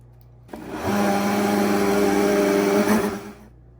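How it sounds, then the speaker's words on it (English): A blender whirs steadily for about three seconds, loud and close, as fresh parsley and the other chimichurri ingredients are blended, starting abruptly and cutting off near the end. "We place all the ingredients in the blender and we let it go for about 45"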